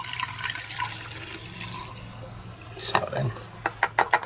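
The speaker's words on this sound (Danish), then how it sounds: "Så hælder vi lige vores benzin tilbage." Gasoline being poured back into the fuel tank of a Stihl MS200 chainsaw during servicing, a soft liquid trickle followed by a few sharper splashes and clinks near the end, close by and fairly quiet.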